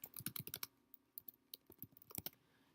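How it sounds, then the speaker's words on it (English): Quick bursts of keystrokes on a computer keyboard while typing a web search, close and fairly quiet, with short pauses between clusters of clicks and no talking. "type in March of Dimes"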